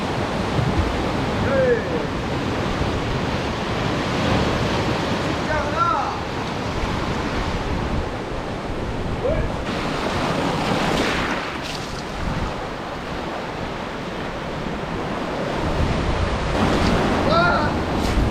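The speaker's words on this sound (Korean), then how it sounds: "눈을 감으면은 이 파도 치는 소리랑 이 느낌이" Sea waves crash and wash continuously onto a beach during an outdoor meditation session by the shore, a loud, close surf roar mixed with gusty wind buffeting the microphone.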